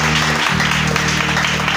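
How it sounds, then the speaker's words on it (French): A church congregation applauding during a French-language sermon, a dense steady wash of clapping that is loud and sustained throughout, with a low tonal hum beneath it. "Est-ce que tu peux l'acclamer ce matin?"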